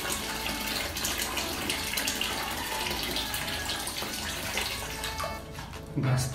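Water runs steadily from a tap while someone wets their face, a continuous splashing wash under faint talk, with a brief louder gush near the end.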